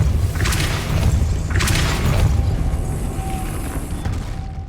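Depulso force spell cast in Hogwarts Legacy, PC gameplay, heard as two quick whooshing bursts with a booming low rumble under continuous game ambience.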